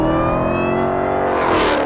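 A 2026 Shelby Super Snake-R Mustang with a supercharged 5.0 V8 of about 850 hp revs loudly and close up, a steady high engine drone that climbs and sweeps through the rev range with no talk.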